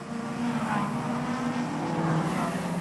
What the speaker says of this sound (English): Remarkable how easy Sasha Burt in the Viper overtakes and gains some distance